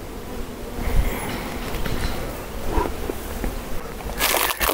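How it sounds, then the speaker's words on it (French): Honeybees buzz around a beehive in a continuous droning swarm, close and fairly loud, with rustling and a brief burst of noise near the end. "les abeilles ne sont pas méchantes"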